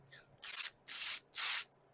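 A human voice imitates a spray paint can with three short, sharp hissing bursts separated by brief pauses, close and loud.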